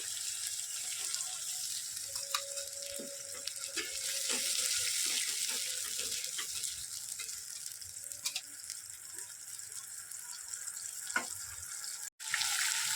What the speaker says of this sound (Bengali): মশলার বাটিটা দিয়ে একটু জল দিয়ে দেবো।